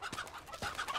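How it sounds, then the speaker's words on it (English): Short bursts of chicken clucking from a bird in the Uncharted 2: Among Thieves video game, a few quick, fairly faint calls heard on their own without talk. "Chicken!"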